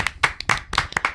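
Hand claps from a small group, a sparse handful of separate bursts over about a second, with a faint voice mixed in.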